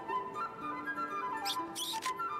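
A baby Japanese snow monkey gives thin, high squeaks like a squeeze toy, a few short close calls near the end over a faint steady background tone.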